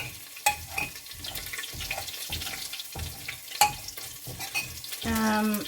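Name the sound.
garlic frying in a pan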